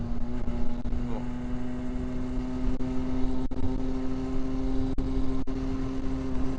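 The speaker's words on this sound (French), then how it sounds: "Là je l'ai fait un peu monter dans les tours, hein." A Derbi Senda LDT 50cc moped engine runs steadily with a constant droning hum, with occasional clicks and a faint rise in pitch, and a rider talks over it throughout.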